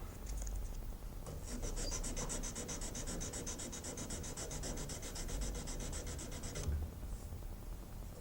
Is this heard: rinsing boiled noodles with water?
no